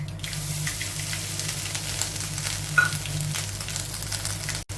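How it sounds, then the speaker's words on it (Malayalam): Mustard seeds crackle in hot coconut oil in a pan during cooking for pumpkin erissery. A steady close sizzle runs throughout, with faint scattered pops and one brighter snap midway. "കടുക് പൊട്ടി വരുന്നുണ്ട്."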